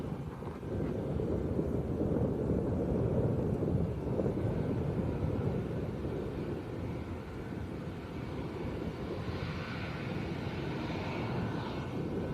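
An airliner rolls long down the runway after landing at Lanzarote's Arrecife airport, its steady, loud engine roar and rushing wind filling the whole stretch with no let-up.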